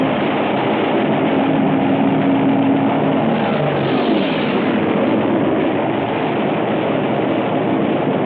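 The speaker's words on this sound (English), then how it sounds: "Japanese torpedo bombers." Japanese torpedo bombers fly past in a wartime scene, a loud, continuous droning engine roar that holds steady throughout with a slight swell in the middle.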